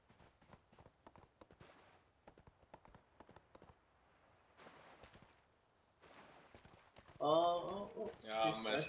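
Hooves of a video game horse clop in quick irregular bursts, close and fairly quiet, with pauses between runs; a voice speaks near the end over the trotting.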